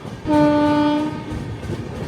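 A loud train horn sounds once for about a second over the steady rumble of a moving passenger train travelling from Secunderabad towards Goa.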